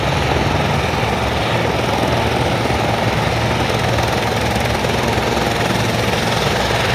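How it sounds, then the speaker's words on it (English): A helicopter drones steadily overhead in a New York City street, a constant loud rotor and engine roar that neither fades nor builds. "Ugh. Helicopter."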